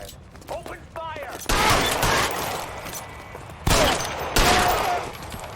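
Gunfire in the L.A. Noire video game breaks out as a shootout, with sharp volleys and loud bursts arriving in clusters while voices shout over the chaos.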